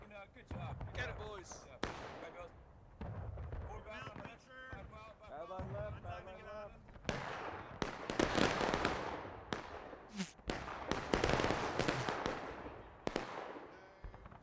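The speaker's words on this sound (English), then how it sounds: "So far, both teams are opting for some long-distance shooting." Distant musket fire from a large 150-player battle at Pry Ford in the Civil War game War of Rights: scattered cracking shots and rolling volleys of varied loudness, with a voice talking in parts.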